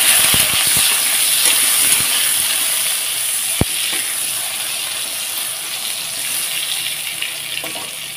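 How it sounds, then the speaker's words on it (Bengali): Salted eggplant pieces fry in oil in a wok, a loud, steady, close hiss of sizzling with a few sharp knocks and clatters near the start and midway, and no talking. "এখন আমি এই যে বেগুনগুলো দিয়ে দেবো কড়াতে।"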